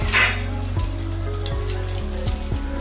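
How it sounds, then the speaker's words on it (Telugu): A tablespoon of mustard seeds sizzling in hot oil in a pan, a steady frying hiss with scattered crackles over a low, even hum, with no speech. "ఆయిల్ వేడయ్యాక అందులో 1 టేబుల్ స్పూన్ ఆవాలు వేసుకోవాలి"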